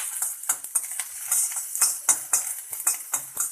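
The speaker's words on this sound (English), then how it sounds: "Now I am adding curry leaves. This also I will be roasting in oil." Curry leaves roasting in oil in a pan, with a rapid run of light metallic clinks and scrapes from stirring over a faint hiss, heard close up.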